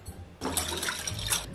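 Water is poured into a large mixing bowl for piadina dough, a short faint splash and trickle lasting about a second after a quiet start.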